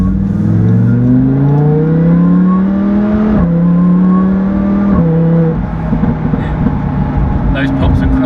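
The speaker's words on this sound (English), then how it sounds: "Those pops and cracks from the exhaust. It's the Akrapovic" A supercharged Lamborghini Huracan with an Akrapovic exhaust revs up loudly, its pitch climbing then dropping at shifts, followed by crackling exhaust pops near the end, with a voice talking over it.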